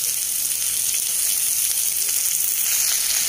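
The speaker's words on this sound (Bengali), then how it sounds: "আমি যা পেঁয়াজ কেটেছিলাম সমস্ত পেঁয়াজ তুলে দিলাম।" Chopped onions fry in hot oil with browned garlic, producing a loud, constant, close sizzle with no speech.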